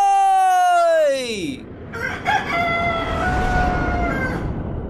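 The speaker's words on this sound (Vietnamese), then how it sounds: "Tiếng gáy của cậu nghe hay thật" A rooster in a Vietnamese 3D animated fairy tale crows once, long and loud, with a rising then falling call that fades into softer clucks and animated background sound.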